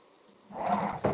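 A wooden drawer slides open with a short scraping rumble, ending in a soft knock, close by and brief.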